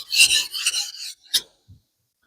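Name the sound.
knife sharpening on a wet whetstone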